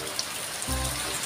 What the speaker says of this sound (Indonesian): Pantai Timur mah hujan lebat mah.